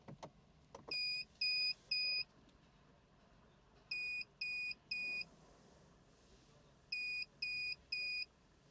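A Benish car alarm key tag sounds its low-battery warning after the engine starts: three groups of three short, clean electronic beeps, evenly spaced and clear above a faint background hum.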